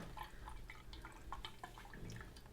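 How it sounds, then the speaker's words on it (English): Faint, irregular drips and trickles of buttermilk falling through a strainer pour spout, quiet and close, with no talking. "I'm just straining it through that pour spout, which is awesome."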